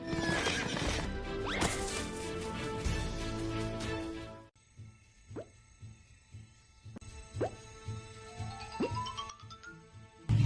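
A horse whinnies several times amid galloping hoof clops, loud at first then sparser and more distant, in a staged chase scene with no talk over it.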